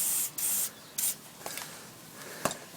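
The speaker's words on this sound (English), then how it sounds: "So that's why I spray that. In fact, I might spray a little more of this stuff on there" Short hissing bursts of aerosol lubricant spray onto the brake caliper bolts of a 1999 Honda CR-V, three quick sprays close to the mic, followed by faint scraping and a small tap.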